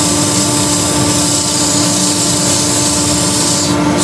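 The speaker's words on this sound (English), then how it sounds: "I'm going to put the extractor on, just sand that one." Sanding a wood-turned fishing lure on a lathe at 100 grit, with a dust extractor running as a steady, loud, continuous broadband roar and hum throughout, with no talk.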